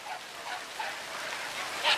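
Faint, brief yips and whimpers from hunting dogs on a wild boar hunt come through a steady wash of rain, scattered and fairly distant.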